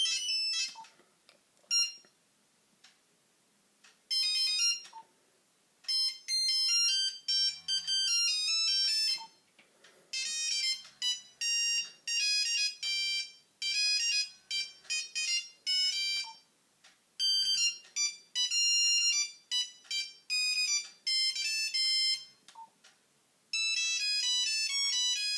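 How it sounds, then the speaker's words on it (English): Nokia 3310 mobile phone ringtones play one after another, bright electronic beeping melodies in quick repeated patterns separated by short silences, loud and close with no talk. "There are a lot of ringtones on this phone, to be honest."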